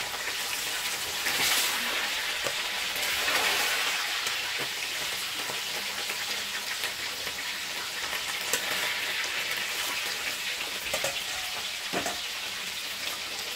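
Tilapia fish frying in reused cooking oil in a pan, a dense, steady crackling sizzle throughout with a few faint pops, close and fairly loud, no talking.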